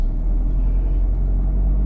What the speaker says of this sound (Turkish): Otobüs dönebilecek mi oradan?